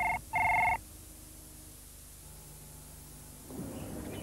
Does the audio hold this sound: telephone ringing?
yes